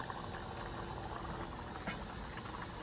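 A pot of curry with coriander simmers on a stove, with a faint, steady bubbling hiss and soft gurgles continuing evenly throughout, quiet and close.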